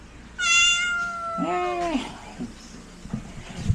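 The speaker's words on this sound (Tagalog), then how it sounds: "nagsabay yung yung meow niya" A cat gives two close, clear meows, the first long and high and the second lower and drawn out, followed by faint rustles and soft sounds in a quiet room.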